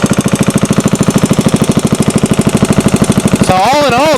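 A 74-year-old Briggs and Stratton small engine on a dyno chugs loudly in a fast, even pulsing rhythm, then cuts to a steady whine as a voice begins speaking.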